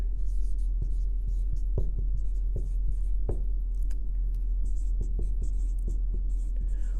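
Pen or pencil writing out math notation, with soft scratchy strokes and taps in an irregular rhythm over a steady low electrical hum.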